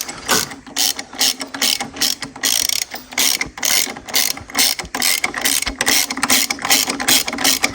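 A hand ratchet rapidly clicks while tightening a bolt during a Megane R26 engine swap into a Clio, a close, loud burst of quick ratcheting strokes with brief pauses.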